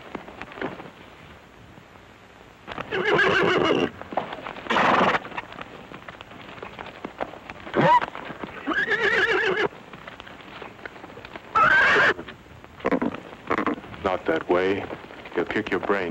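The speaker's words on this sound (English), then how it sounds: "Rope that mare and lead her out." A mare in an old 1948 western whinnies several times in loud, wavering bursts, with hoofbeats and soundtrack noise between the calls.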